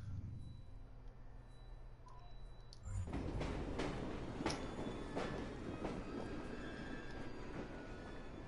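Train in the video game Assassin's Creed Syndicate, a low rumble that jumps to a louder rattling clatter of wheels on rails after a few seconds, continuing steadily with faint metallic clicks.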